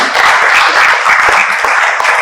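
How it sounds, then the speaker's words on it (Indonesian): Congregation clapping together at a Sunday worship service held by a university Christian student fellowship, a steady, loud burst of applause sustained throughout without a break. "Tepuk tangan dulu untuk kita semua"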